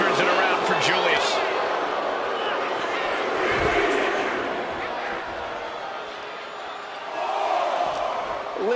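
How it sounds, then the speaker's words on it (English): A basketball video game arena crowd roars and cheers in a continuous wash of noise, with an excited commentator talking over it throughout. "Listen to this crowd."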